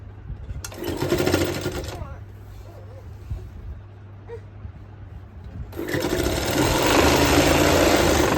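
A sewing machine stitches a quilt border made from old saris in two close, loud runs of rapid mechanical whirring separated by a brief pause.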